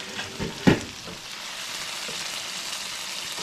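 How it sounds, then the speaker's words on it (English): Potatoes and smoked fish cook in a pot, giving a steady bubbling hiss after a few brief knocks and clatters at the start, close and moderately loud. "we're gonna let it simmer for a few more minutes"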